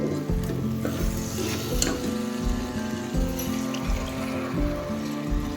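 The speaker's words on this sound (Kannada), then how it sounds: "ಇವಾಗ ಇವು ಕುದಿಯಷ್ಟು ನೀರು ಹಾಕೋಬೇಕು ನೋಡ್ರಿ" Steady sizzling and stirring from a pan of urad dal palya as water is added to the hot mixture, a continuous close hiss with scraping and clatter throughout.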